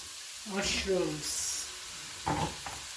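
Mushrooms frying in a pan with garlic and onion for spring rolls, a faint steady sizzle beneath a person speaking.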